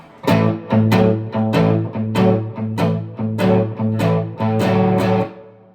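Electric guitar played through an amp with a crunchy overdriven tone and no pedals, strumming a steady rhythm of chords in repeated, evenly spaced hits, loud and close.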